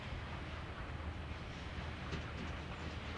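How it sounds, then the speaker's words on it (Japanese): A DF200 diesel locomotive hauls a freight train of gasoline tank cars past, a continuous low rumble with rolling wheel noise and faint rail clatter, steady and fairly close. "やってきたのは8072列車塩浜発南松本行き、機関車は DF200 の207号機です"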